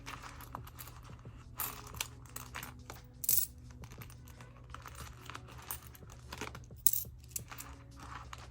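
Coins are pulled out and handled during cash stuffing, with clinks and jingles of metal scattered among soft rustling and crinkling of pouches, close and fairly quiet, with no talking.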